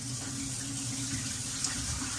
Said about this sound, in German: und lasse jetzt auch mal hier in das Spülbecken Wasser.